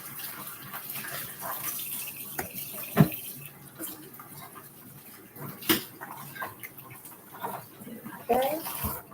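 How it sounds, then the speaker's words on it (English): Hands are washed under a running water tap, a steady close splashing rush that carries on throughout, with voices talking over it and a few small clinks. "Wash my hands."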